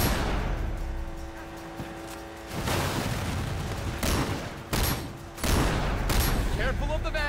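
Gunfire in the Sleeping Dogs: Definitive Edition game, Year of the Snake content: loud, dense bursts of shots and blasts rolling over one another, with heavier volleys near the end and game audio running underneath.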